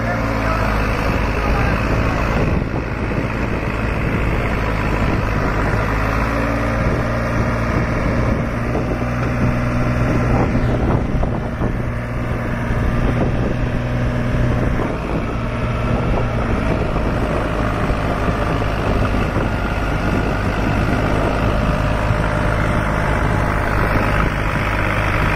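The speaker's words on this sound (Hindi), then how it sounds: "बहुत बेहतरीन ट्रैक्टर चल रहा है" A New Holland 5510 Excel tractor running a 7-foot rotavator at a village field demo, its diesel engine droning steadily and loudly throughout without a break.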